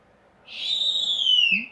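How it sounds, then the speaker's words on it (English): A snowy owl at a bird of prey centre gives a single drawn-out, high whistling call lasting about a second, close and clear against quiet background. "And this is a snowy owl"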